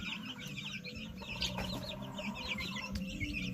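Native chickens cluck and chirp steadily inside a small brooder house, a layered, continuous chorus of several birds heard close up over a constant low barn hum, with no talking.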